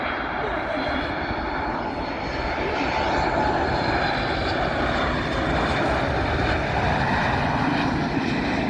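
A passenger airplane passes at BWI Airport, its engine roar loud and sustained throughout, swelling slightly as it goes by with no talk over it.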